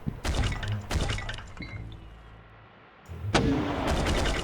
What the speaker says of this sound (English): As you can see, as a shotgun projectile, this can be pretty effective.